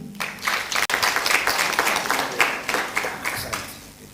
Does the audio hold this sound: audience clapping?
yes